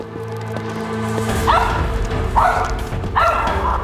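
A rescue dog barks three times, separate loud woofs spaced about a second apart over a low rumbling background.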